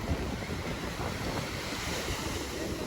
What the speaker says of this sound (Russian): О, волны прям хорошие.